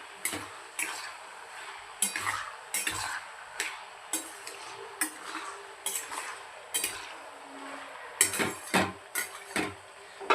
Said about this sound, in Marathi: असं मधून मधून आपल्याला लसूण खालीवर साईड बदलत राहायची आहे त्याची।